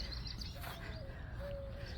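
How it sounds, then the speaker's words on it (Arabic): Birds sing in a children's memorial park: clear, thin whistled notes and a few short chirps over a steady outdoor background hum. "شلون صوت الطيور جد حلوة"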